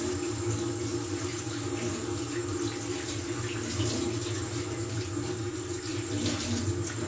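Tap water runs steadily into a sink as hands are washed in a kitchen, a continuous close hiss and splash with no talk.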